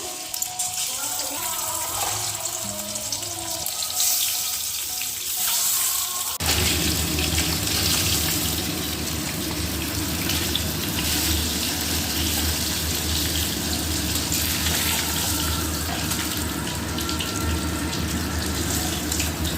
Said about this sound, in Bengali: কড়াই গরম হয়ে গেছে তেল দিয়ে দেবো মাছ ভাজার জন্য